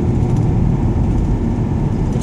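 An old car with about 120,000 miles drives uphill, its engine holding steady revs under load, a loud, continuous close-up rumble with no talking.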